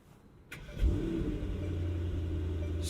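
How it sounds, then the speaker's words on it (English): Mercedes-AMG GT63 with its 630 hp engine cranking and firing up with the door open, a sharp start followed by a steady, deep idle rumble, close and fairly loud with no talk. "So let's start the car with the door open as you should."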